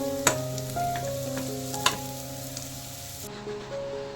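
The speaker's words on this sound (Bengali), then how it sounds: "এই যে আলু ভাজার মধ্যে কাঁচা লঙ্কা দিয়েছি" Potatoes fry in hot oil with green chillies added, giving a steady close sizzle and crackle, with a couple of sharp utensil clicks as the pan is stirred.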